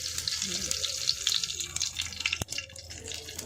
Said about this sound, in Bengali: এই যে দুটো তেজপাতা দিয়ে দেবো মধ্যে জিরে দিয়ে দিচ্ছি একটু